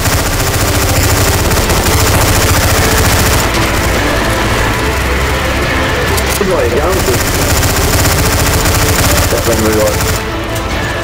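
Sustained rapid automatic gunfire from Counter-Strike: Source zombie escape on a Harry Potter map, loud and continuous throughout, with players shouting over it.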